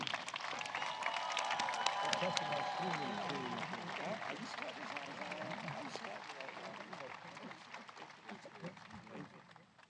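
Audience applause at a CHIPS and Science Act bill signing, sustained clapping from a large crowd filling the room at steady volume and thinning slightly toward the end, with a few voices and cheers mixed in.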